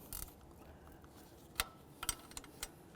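A hand ratchet snugging exhaust manifold nuts on a 2003-08 Toyota Matrix gives short bursts of clicking, close and fairly quiet, with a few louder knocks.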